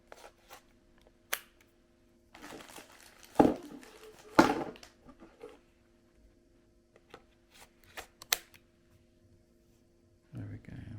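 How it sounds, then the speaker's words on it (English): Nintendo Switch OLED controllers clicked onto the console: a few sharp plastic clicks and snaps, spaced apart, close and fairly quiet, amid light handling noise. "Let's just click these in."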